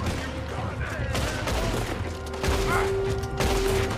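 Gunfire in Red Dead Redemption 2, a steady clatter of shots and mechanical noise running throughout, with speech mixed in over the shooting.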